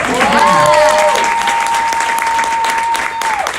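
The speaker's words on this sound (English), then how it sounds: "Let's give her a round of applause." A dense burst of audience applause fills the room, steady and loud, with a sustained ringing tone and some voices mixed in.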